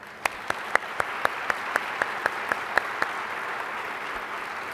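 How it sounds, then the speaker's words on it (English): Faint, diffuse applause from the audience at a scholarship awards ceremony fills the hall. A single sharp clap repeats at a steady beat about four times per second and stands out above the wash. "Another round of applause."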